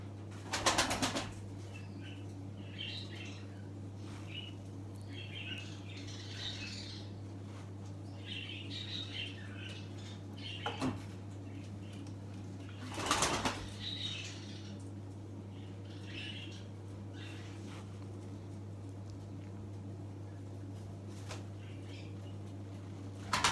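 Miro pigeons being fed at a breeding loft in Kepez, with soft cooing, scattered chirps and a couple of bursts of wing flapping over a steady low hum.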